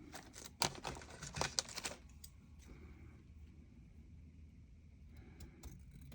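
Scissors snip through paper for a handmade junk journal envelope, a quick cluster of close, crisp cuts in the first two seconds, then a quiet stretch with faint handling noise.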